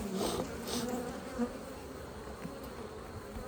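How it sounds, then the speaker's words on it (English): Honeybees buzz inside an open hive, a dense and steady swarm hum with wingbeat flutters rising and falling close by, and no voices come through. "there's a whole bunch of bees in here"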